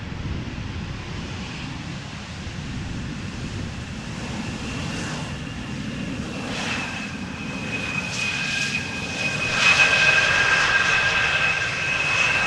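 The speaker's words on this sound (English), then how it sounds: "Embraer 175, KLM flight 1516, arriving from Norwich, short flight" A KLM Embraer 175 jet arrives at Amsterdam Schiphol in showery weather after a short flight, its engine roar a steady, broad rush that swells louder toward the end, with no voices.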